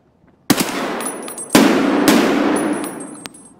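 Loud automatic gunfire in the video game Escape from Tarkov, two sharp-onset bursts of rapid shots with metallic ringing tails, close and without talk.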